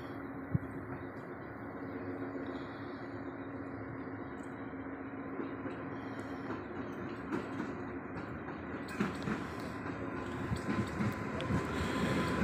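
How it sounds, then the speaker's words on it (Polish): A passenger train from Radom Główny pulls into Warszawa Wschodnia station, a low continuous rumble of rolling wagons that builds gradually, with faint clicks of wheels over rail joints toward the end. "Wjeżdża pociąg osobowy relacji Radom Główny,"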